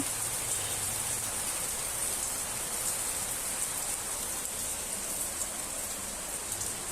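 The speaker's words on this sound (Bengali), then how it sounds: "রাতের বেলার মতো বৃষ্টি হচ্ছে, অন্ধকার হয়ে গেছে" Heavy downpour in the middle of the day, a steady, dense hiss of rainfall on surfaces that stays loud and even throughout with no voices.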